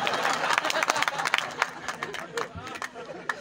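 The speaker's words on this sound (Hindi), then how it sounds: "एक बार तालियां बजाएं आप।" Audience at a Hindi poetry recital breaks into scattered clapping, a short burst of applause mixed with crowd murmur and voices.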